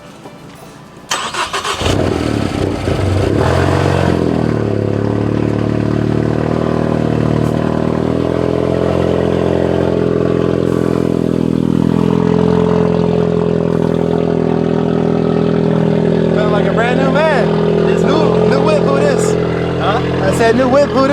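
Loud ST car engine catches after a brief start and settles into a sustained, heavy rumble with steady revving, close by, while people talk and shout over it.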